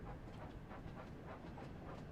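A locomotive in the Thomas-themed video game Wonders of Sodor, shunting trucks: a faint, steady rumbling run with soft rhythmic chuffing and clickety-clack, no voices over it.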